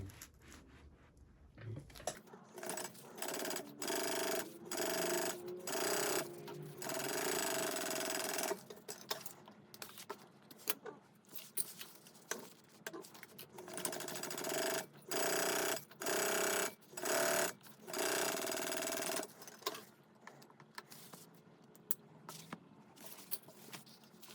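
A sewing machine stitches a fabric iPad sleeve at a four stitch length, running in a series of steady whirring bursts separated by short pauses, close and clear with no talk.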